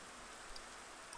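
Faint steady rain patters softly and evenly in a video game world, a low continuous hiss with no voices over it.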